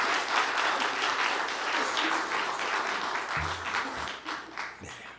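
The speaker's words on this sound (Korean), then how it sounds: "우리 한번 박수로 한번 같이 감사드리시면 좋겠습니다" A church congregation at a Sunday afternoon service applauds together, a dense, even wash of many hands clapping throughout, with a few low voices murmuring underneath.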